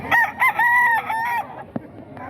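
A rooster of a fighting-cock bloodline gives one close, loud crow in several harmonic bursts, followed by a short cluck and faint farmyard sounds.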